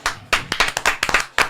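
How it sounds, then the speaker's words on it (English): A single person claps a quick burst of about ten sharp hand claps in an irregular rhythm, close and loud, with no talking. "Clap that up."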